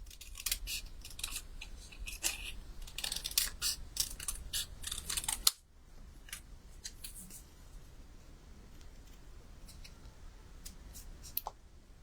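Scissors fussy-cutting card stock for a handmade wildflower birthday card: a quick run of close, crisp snips and clicks for about five seconds, then sparse, quieter snips over a soft background.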